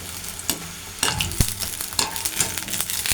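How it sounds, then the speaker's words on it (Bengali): Spicy long vermicelli pakoras deep-frying in hot oil, a steady close sizzle with bursts of bubbling and several stirring clatters from a utensil, no voices. "দেখেন আমি এভাবে ভেজে নিচ্ছি"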